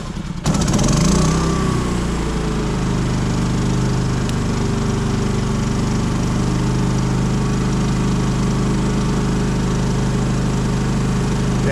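A propane generator engine, choked and fired by its electric starter, catches after a brief cranking sound and settles into a steady, loud drone at low RPM in economy mode, running close by without any talking.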